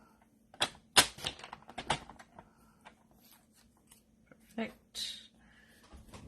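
A paper trimmer slices through cardstock while a card is being made, giving a few short, crisp cutting strokes close by, scattered among quiet handling noises.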